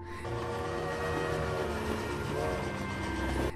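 A train rolls along the railway with a sustained horn or whistle tone sounding over the continuous rumble of wagons, loud and close throughout.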